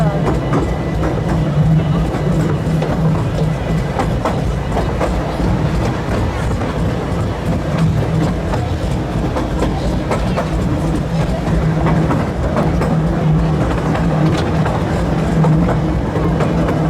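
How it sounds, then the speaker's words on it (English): A roller coaster train rumbles along its track at Efteling theme park in winter, a continuous loud clattering roar with rhythmic clicks, as someone talks over it. "look at that, it's a classic. I look forward to taking you along for the ride later on in the snow. 2 trains in action as well."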